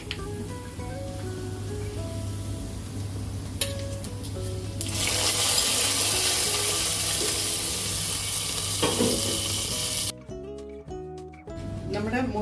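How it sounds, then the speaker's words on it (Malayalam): Fried onion tempering poured into a coconut-free tomato buttermilk curry, letting out a loud, steady sizzle that swells suddenly and holds for several seconds before cutting off, with a voice speaking at times. "ഇനി നമുക്ക് അത് മോരിലോട്ട് ഒഴിച്ചു കൊടുക്കാം."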